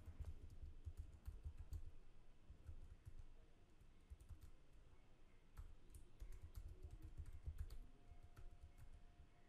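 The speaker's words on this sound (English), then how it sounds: "I have to type in a new password here" A computer keyboard is typed on in quick, uneven bursts of soft clicks while a new password is entered, close and quiet with brief pauses between runs of keystrokes.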